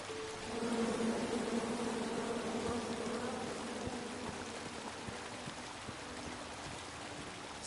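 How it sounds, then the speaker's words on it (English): Bees buzzing in the video game King's Quest, a steady droning hum that holds at moderate loudness for several seconds against a noisy background, with no talk. "Come at me, bees!"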